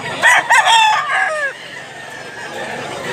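Gamefowl roosters at a Mantalungon, Barili farm crow loudly, two or three bursts in the first second and a half, then the calls fade into quieter distant crowing and yard ambience.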